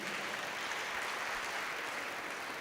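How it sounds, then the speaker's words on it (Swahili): A church congregation at a Kikuyu Sunday service claps for visiting guests, a steady dense wash of many hands applauding throughout, fairly distant and even in level. "Tuwapigie makofi kanisa"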